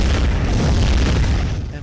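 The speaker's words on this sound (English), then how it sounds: "And my ship's destroyed." A spaceship blows up in the arcade space shooter Novastrike, a single loud, dense boom that fills the whole moment and stays heavy to the end.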